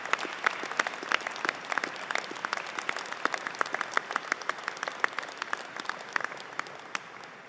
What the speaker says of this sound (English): I would just ask you to make a round of applause to all those people who have helped